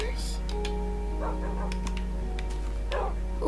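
A dog in the Minecraft video game barks and whimpers a few times in short game-sound bursts over a steady background hum, with a few faint clicks scattered through.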